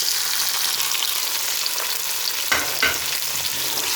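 Tomatoes, green chillies and garlic frying with onions in hot oil, a loud continuous close sizzle with a couple of scraping stirs of the spoon through the pan.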